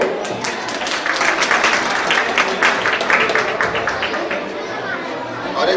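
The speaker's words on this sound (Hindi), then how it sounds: "इस संस्था से लिए जोरदार तालियां बजाओ" A crowd claps loudly at a society's foundation day celebration in Delhi, steady applause mixed with chatter from the audience throughout.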